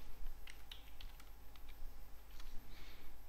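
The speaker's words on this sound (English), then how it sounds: "i am typing my email id" An email id is typed on a computer keyboard, with quiet, irregular key clicks over a steady background hiss, no voices present.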